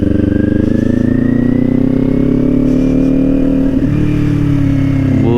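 A motorcycle engine runs steadily close by, a low rumbling idle with a rising rev near the end.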